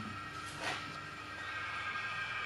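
Compressed air hisses steadily out of cylinder 4 of a VW T6 2.0 Biturbo CXEB engine (204 PS) during a leak-down test, a continuous rushing noise with faint whistling tones and a brief swell, with no talk.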